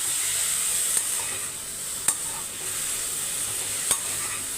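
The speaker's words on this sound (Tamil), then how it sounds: "இப்போ நம்ம மஷ்ரூமை வதக்கி எடுத்துக்கலாம்" Mushrooms sauté in butter for a hotel-style mushroom gravy, giving a steady, close hiss broken by three sharp stirring scrapes.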